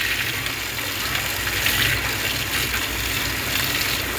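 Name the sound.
water gushing from newly fitted submersible pump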